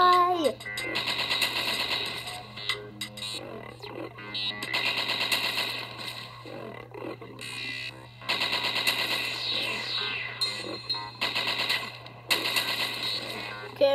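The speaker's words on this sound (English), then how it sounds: "This is also a machine gun." Rapid machine-gun fire from the Dino cap video game, coming in several sustained bursts over a steady background hum, loud and close throughout.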